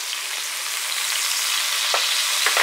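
Veal burgers frying in a cast iron pan with bacon fat and juices, a loud dense unbroken sizzle with a few faint taps late on, close and without talking.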